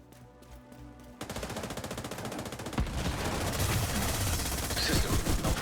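Video game gunfire starts after a quiet moment and builds into sustained, dense automatic fire, growing louder and continuous to the end.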